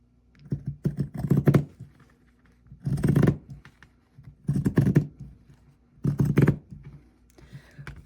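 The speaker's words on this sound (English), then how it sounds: "Maybe I should use my pinking shears. These are awful hard to use. They're very stiff." Stiff pinking shears chop through denim in four separate bursts of crunchy, rasping cuts, each lasting about a second with short quiet gaps between, close and moderately loud, with no talking.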